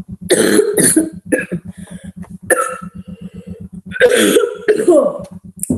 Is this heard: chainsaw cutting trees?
no